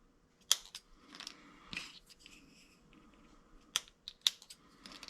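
Sharp scissor snips cutting through stereo wiring harness wires during a Boss Elite BVN960NV navigation install in a Ford F150, several quick crisp clicks spaced apart over a quiet background.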